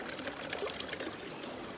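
Water rushes steadily at the base of a waterfall near Da Nang, Vietnam, a close, even broadband wash with no voices heard.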